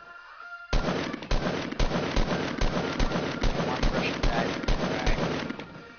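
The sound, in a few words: gunfire from a video game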